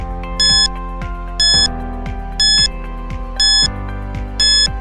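Quiz countdown timer from a children's English lesson: a steady ticking bed with five loud, evenly spaced electronic chime-beeps about once per second, no voices.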